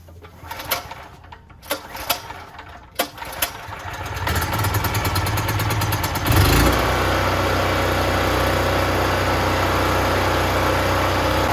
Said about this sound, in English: Next, you'll start your portable generator